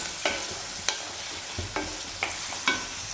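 Chicken curry ingredients stirred in a pan over high flame, a steady close sizzle of frying with a spoon or spatula scraping the pan about five times in an uneven rhythm, no talk.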